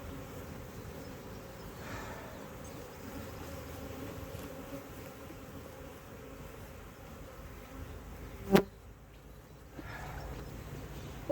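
Honeybees drone steadily around an outdoor hive on a hot day, a soft continuous buzz with a few individual bees passing close, broken by one brief sharp knock near the end.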